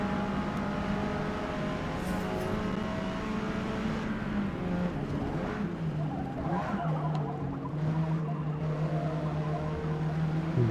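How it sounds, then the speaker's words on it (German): Hyundai Veloster N drifting in Forza Motorsport, a steady engine drone with shifting pitch and long squealing tire skids running throughout, close and continuous. "Bisschen Drifting hier."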